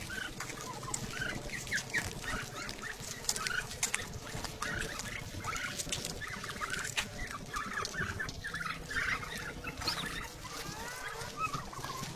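A dense farmyard chorus of turkeys clucking, gobbling and chattering continuously at close range on icy ground, busy and steady throughout with no clear speech.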